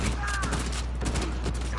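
Type 95 assault rifle firing in Uncharted 4, a steady stream of rapid automatic shots over a constant dense game background, with a voice talking underneath.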